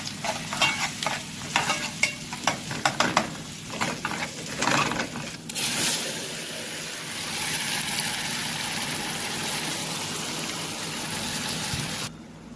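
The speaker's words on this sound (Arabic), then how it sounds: "طبعا قطعت البصل وبيتحمر." Chopped onions fry in a pan for an Egyptian moussaka, with steady sizzling and a few stirring scrapes early on, then a continuous close hiss that stops abruptly near the end.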